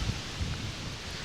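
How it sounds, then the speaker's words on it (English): Strong wind gusting outdoors, rumbling and buffeting against the microphone as a low, steady roar with brief surges, close and fairly loud with no other sounds. "It's really windy."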